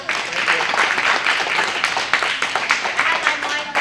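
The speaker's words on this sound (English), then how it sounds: "So give him a round of applause." A small group at a CrossFit gym claps for a guest, a lively burst of close applause with distinct individual claps, steady and loud throughout.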